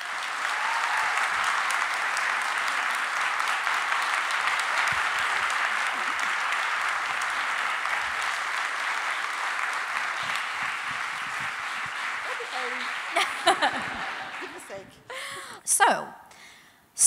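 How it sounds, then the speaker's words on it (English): A large audience applauds steadily at a public conversation event honouring a forensic anthropologist, sustained dense clapping that fades out over about fourteen seconds before a voice begins speaking. "Now everybody give a warm round of applause for Sue Black."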